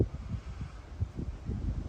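Gusty wind blows outdoors, buffeting the microphone in low rumbling puffs that rise and fall irregularly for a couple of seconds.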